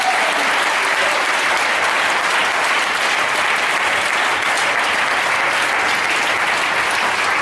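A church congregation claps and cheers together at length, a loud, dense wash of applause that holds steady from start to finish with no pauses.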